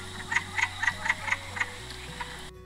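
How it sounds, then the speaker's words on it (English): A wood frog calls in a series of about eight short, clucking croaks spaced evenly over two seconds, close and clear with no voices. "a Wood Frog,"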